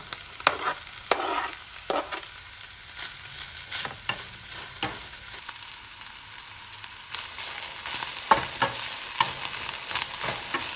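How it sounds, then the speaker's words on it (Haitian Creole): Peppers and parsley fry in a pan with a soft, steady sizzle, broken by the intermittent scrape and clatter of stirring, close and fairly quiet. "Laissez bien frit."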